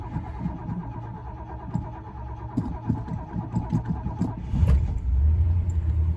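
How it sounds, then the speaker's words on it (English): A 1971 Mercury Marquis Brougham, left sitting for about three months, cranks and fires up, then settles into a low, steady rumbling idle close by, with the engine note deepening and growing louder toward the end. "Boy, this car runs smooth."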